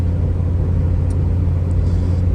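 A car engine drones steadily around 2,000 RPM while the car gathers speed only sluggishly, giving a loud, close, continuous low rumble and whir with no talking over it.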